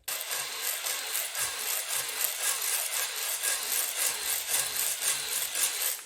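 Continuous abrasive scraping from a hone spinning and stroking up and down inside the cylinder walls of a Subaru WRX engine block, a steady rasping texture with a faint rhythmic pulse throughout.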